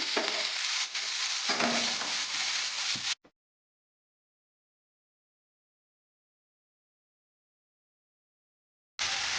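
Urad dal fries in a pan with a dense, hissing sizzle and scraping stir for about three seconds, then cuts to silence before the sizzle briefly returns at the end.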